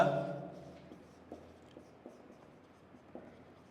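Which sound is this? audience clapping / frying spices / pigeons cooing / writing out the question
writing out the question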